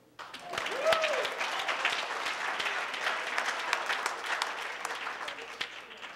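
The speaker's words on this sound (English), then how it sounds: "Now how about a round of applause for all of you?" Audience applause fills the room at an awards ceremony, a steady broadband clapping that swells in after a brief pause and holds for several seconds, with a voice briefly heard over it early on.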